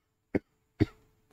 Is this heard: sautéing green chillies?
no